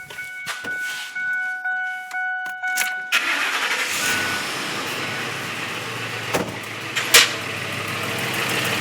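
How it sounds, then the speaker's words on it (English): A Ford F-150 pickup with automatic locking hubs starts in four-wheel drive: a few clicks, then the starter cranks and the engine catches and settles into a steady idle, with a couple of sharp knocks later. "what I'm going to do is start the truck, and I'll start it in four-wheel drive."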